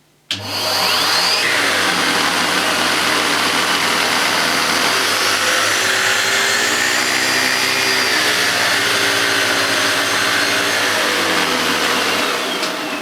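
Numatic Harry vacuum cleaner with a brush nozzle running loud and close, a steady motor roar and whine held for about twelve seconds before it stops abruptly.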